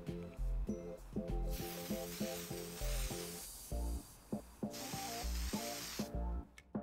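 Tamiya Fine Light Grey primer sprayed outdoors from an aerosol can onto a diecast Matchbox Lomas Ambulance, bursts of hissing spray interspersed with rattling can clicks, close and moderately loud.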